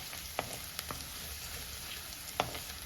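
Finely chopped ginger frying in a pan for a Kerala-style tomato curry gives a faint, steady sizzle with a few sharp clicks of stirring.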